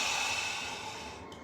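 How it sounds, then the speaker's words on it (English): Breath during a yoga practice: one steady, breathy exhale, close and fairly loud, slowly fading over about a second and a half. "Exhale completely."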